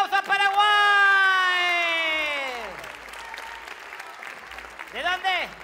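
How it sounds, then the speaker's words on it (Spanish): A television studio audience applauds loudly, and long drawn-out shouted calls ring over the clapping before it fades. "¡Fuerte el aplauso a Paraguay!"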